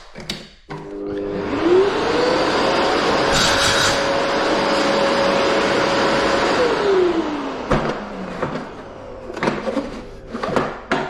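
Workshop dust extractor switching on with a rising whine, then running at a steady loud drone for several seconds before spinning down, followed by scattered knocks and handling sounds; no talk.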